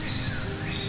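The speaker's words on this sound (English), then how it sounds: "all you hear here is birds." Birds chirping and singing close by, overlapping calls and thin whistled notes over a soft steady background hum.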